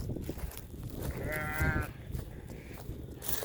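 Sheep ewes being moved on a farm give one clear, wavering bleat in the middle, with rustling and movement noise around it.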